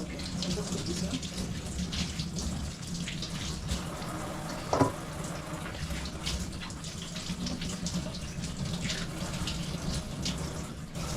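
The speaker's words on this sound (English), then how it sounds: "I always prefer washing my vegetables before cooking them." Vegetables being rinsed under a running kitchen tap for a stir fry, a continuous moderate splash of water, with a brief clunk midway and faint background noise throughout.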